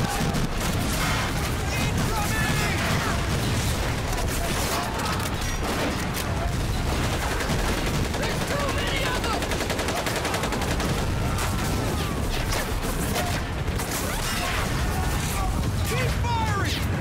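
Machine gun fire in the D-Day level of the Medal of Honor: Pacific Assault video game, dense crackling bursts and volleys running throughout with shouting voices mixed into the battle.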